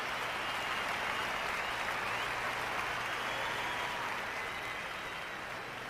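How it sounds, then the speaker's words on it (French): A sermon audience applauds in a large hall, a dense, steady wash of clapping held at full strength throughout with no voices over it. "C'est facile d'applaudir ça"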